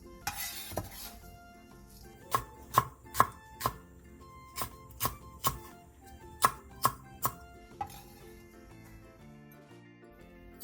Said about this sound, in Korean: 대파 조금과 청양고추 1개를 어슷 썰기 해주세요.